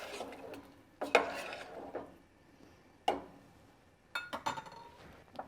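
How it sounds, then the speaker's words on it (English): A spoon stirs gnocchi and spicy meatball soup in a pot, giving a few scattered clinks and scrapes against the metal, fairly faint and intermittent with quiet gaps between strokes. "Give it another stir."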